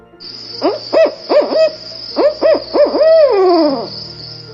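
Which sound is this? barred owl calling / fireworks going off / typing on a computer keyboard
barred owl calling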